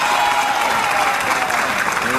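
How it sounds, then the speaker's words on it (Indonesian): Loud, dense applause from the studio audience of the Indonesian talk show Bukan Empat Mata, steady and sustained throughout. "Tepuk tangan untuk semuanya."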